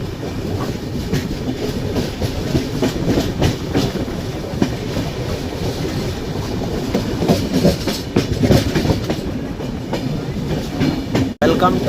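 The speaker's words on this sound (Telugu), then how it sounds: "2 నిమిషాలు స్టాప్ చేసిన తర్వాత మళ్ళీ మన బండి అయితే యలమంచిలి నుంచి స్టార్ట్ అయిపోయింది" Janmabhoomi Express rolling on the rails between Yelamanchili and Tuni, a steady close rumble with clickety-clack wheel beats throughout and a brief sharp jolt near the end.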